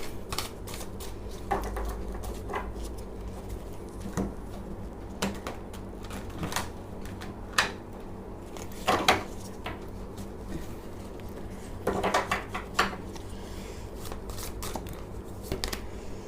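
A tarot deck is shuffled by hand in a quiet room. The cards give repeated quick riffles and sharp flicks at irregular intervals, with a few louder clusters, and no voices are heard.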